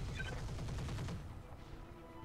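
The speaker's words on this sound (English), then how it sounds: "Too many machine guns." Mech machine guns firing in the game Roguetech, a rapid burst of rattling shots for about a second, then fading into a lower rumble with no talking.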